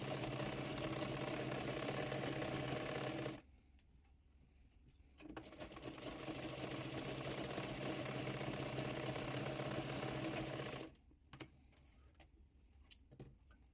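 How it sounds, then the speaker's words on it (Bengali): A sewing machine stitching a baby frock on its longest stitch setting, running in two steady, continuous bursts of mechanical whirring with a short pause between them and a quiet stop at the end, close by and alone. "সেলাইয়ের জন্য মেশিনের সবচেয়ে বড় সেলাই দিয়ে নেব।"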